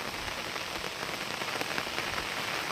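Heavy rain pours steadily, a dense, constant hiss of drops striking a surface close by with no pauses.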